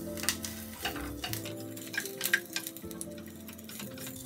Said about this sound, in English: we will then add our smashed garlic.